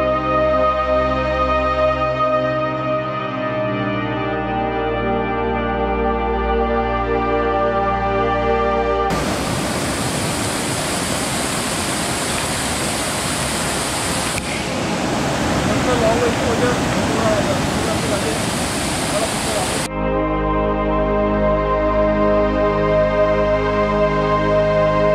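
A waterfall on the Rambaug Point to Garbett Plateau trek in Matheran roars as a dense, loud rush for about ten seconds in the middle, set between stretches of sustained tonal music.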